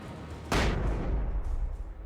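A flashbang goes off in the video game Alan Wake Remastered: one sudden loud blast that fades into a long rumbling tail, with nobody talking over it.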